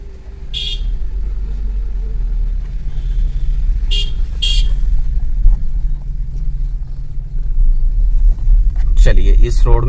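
A car drives along a narrow single-lane local road between Mandi and Sundernagar, its engine rumbling low and steady throughout as another vehicle approaches, with brief high tones and a louder passing swell near the end.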